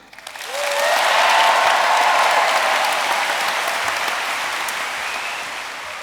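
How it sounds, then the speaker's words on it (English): A big crowd at a Star Wars fan convention bursts into applause that rises within a second, peaks loudly, then slowly thins while staying a broad, continuous roar of clapping and cheers. "If you like number one, give us some applause."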